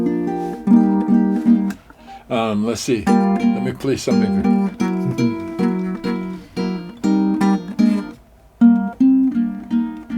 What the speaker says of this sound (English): This is the sound of the super tenor, tuned.